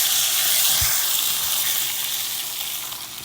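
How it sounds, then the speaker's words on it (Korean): A pan of beef brisket sizzles hard as water is poured in, giving a loud, steady hiss that fades slightly over a few seconds, with a couple of dull low knocks early on. "이제 물을 부어주시면 돼요"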